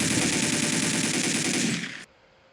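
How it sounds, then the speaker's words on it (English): M4 rifle firing rapid continuous automatic bursts in the Soldier of Fortune II video game, loud and dense, stopping abruptly after about two seconds into near silence. "Two attacks with the M4, the secondary grade attack and the primary normal."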